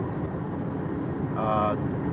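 Steady road and engine rumble from a car with adaptive cruise control and lane assist cruising along the I-75 interstate, continuous and close, with a brief tonal whine partway through.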